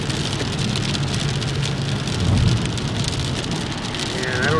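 Steady thunderstorm rain pouring down near El Monte, California, a dense, loud hiss of drops striking surfaces that swells slightly midway, with a low rumble of passing traffic beneath.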